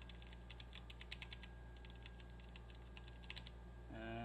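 Razer Orbweaver Stealth gaming keypad with quiet switches being typed on, soft muffled clicks in quick irregular bursts, faint against a low steady hum.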